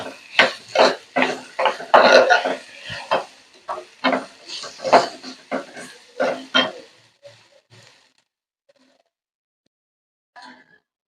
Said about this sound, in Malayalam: ഇതിപ്പോ ആപ്പിള് വെച്ച് പതുക്കെ ഒന്ന് മിക്സ് ചെയ്യാം.